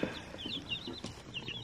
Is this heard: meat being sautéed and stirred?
no